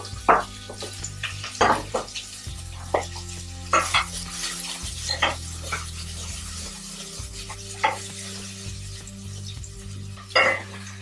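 Zucchini and carrots browning in a pot, a steady sizzle with repeated scraping and stirring strokes of a utensil against the pot, close and fairly loud, no talking.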